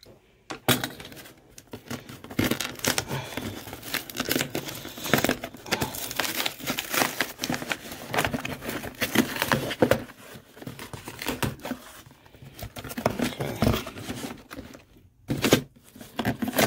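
Plastic packaging of an LED strip light kit crinkles and tears continuously as it is cut open and unwrapped, close up, with rustling bursts and sharp rips throughout and no talking.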